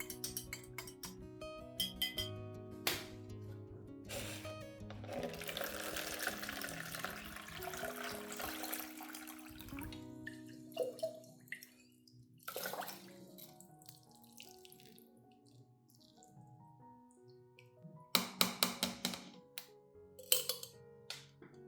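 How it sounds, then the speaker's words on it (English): Water runs from a tap into a sink as rice is strained to keep the rice water, with a steady pour, occasional clinks of a bowl or utensil, and drips between bursts, close and moderately loud. "I will filter out the rice and keep only the rice water."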